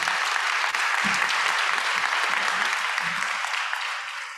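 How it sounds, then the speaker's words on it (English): A conference audience gives a round of applause after a panel discussion on community-driven relocation: a full, even roar of many hands clapping that holds steady for several seconds, then tapers off slightly at the end. "Let's go ahead and give our members a round of applause for this great conversation today."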